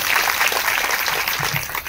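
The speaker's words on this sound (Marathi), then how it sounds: "ऑपरेटर आणि मंडप डेकोरेशन वाले यांच्याकरता आपण एकदा टाळी वाजवली" An audience at a devotional Harinam Saptah gathering under a decorated pandal claps together in a dense, steady burst of applause lasting a couple of seconds.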